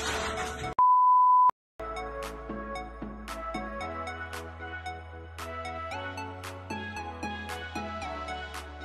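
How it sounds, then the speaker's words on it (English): An electronic alarm gives a steady tone after a short burst of noise, followed by a series of repeated beeps and chiming tones at a moderate level throughout. "there's an alarm going off"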